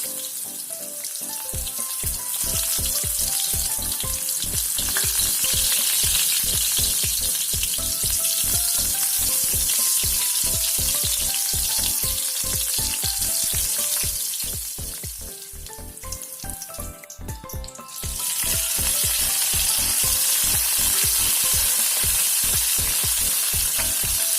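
Chopped shallots frying in hot oil give a loud, dense crackling sizzle with rapid popping, close up and continuous, dipping briefly before surging back.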